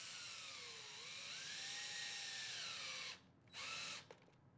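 A power drill drives screws through a metal bracket into the front kick of a Murphy bed cabinet, whining steadily with a shifting pitch, then stopping briefly, restarting for a short burst, and winding down.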